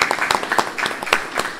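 Audience applause at a lecture hall talk, a short burst of dense hand clapping at fairly close range with no voices over it.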